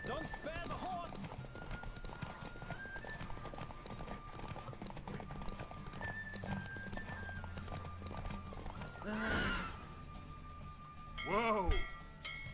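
Continuous hoofbeats of a galloping horse in a Witcher 3 race, with loud neighs around the start and two strong whinny bursts near the middle-end, accompanied by game music and speech.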